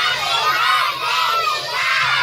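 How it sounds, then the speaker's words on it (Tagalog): Children at a clown-hosted Hello Kitty themed birthday party shout a greeting together, a loud, sustained chorus of young voices that swells and falls twice. "Okay, ready? Sumigaw ulit ng Happy Birthday, Mikay!"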